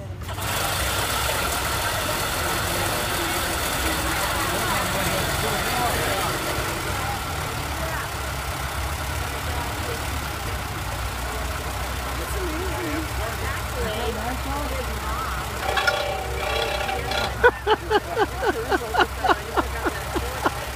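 A 1914 Ford Model T engine with the choke pulled runs at a steady low idle under outdoor background noise, followed near the end by a few loud, rhythmic knocking pulses.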